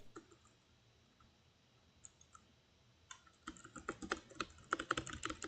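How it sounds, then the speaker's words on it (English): A computer keyboard is hammered rapidly during a Path of Exile 2 live stream, sparse clicks at first, then a dense, loud burst of fast typing and key clacks in the last two seconds, with no talk. "Spamming his keyboard."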